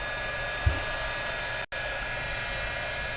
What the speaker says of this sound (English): You got a hairdryer? I got a hairdryer.